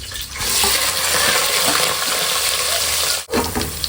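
Onions sizzle steadily in hot oil in a pan, a dense continuous hiss with a brief dip near the end, for a goat head curry.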